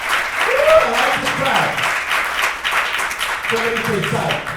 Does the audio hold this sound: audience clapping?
yes